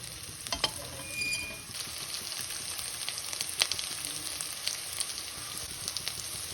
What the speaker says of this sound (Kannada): ಈ ಆನಿಯನ್ ಚೆನ್ನಾಗಿ ರೋಸ್ಟ್ ಮಾಡಿಬಿಡೋಣ. ಇದು ಹೈ ಫ್ಲೇಮಲ್ಲೇ ಮಾಡಬೇಕು